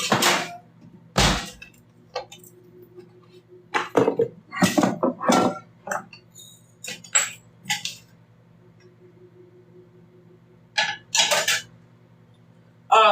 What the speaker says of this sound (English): I'm placing these tortillas in the oven with the steak.